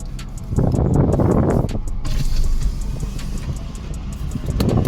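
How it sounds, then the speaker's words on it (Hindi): A car that has been sitting hot in a parking lot is started: a brief, rough burst of cranking and engine catch, then a steady low idle rumbling close by. "पहले गाड़ी स्टार्ट करते हैं जल्दी से।"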